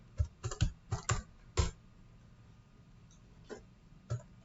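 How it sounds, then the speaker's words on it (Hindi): Computer keyboard typing while entering salary figures in an Excel attendance sheet: a few quick clustered keystrokes, then sparse single taps, fairly close and quiet. "तो बेसिक सैलरी को आपको खुद टाइप करना है"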